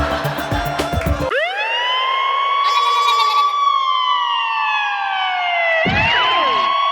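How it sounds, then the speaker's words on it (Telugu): Ambulance-style siren wailing loudly in a comedy stage skit, a long rising and falling electronic tone that holds steady, then drops and restarts near the end, preceded by a brief burst of noisy clatter. "నేను స్టార్ట్ చేశాను అంబులెన్స్."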